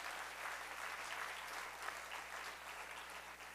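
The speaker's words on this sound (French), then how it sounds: "Oui, on peut les applaudir." Steady crowd applause at an entrepreneurs' gala, fairly quiet and even, a continuous wash of many hands clapping with no voices on top.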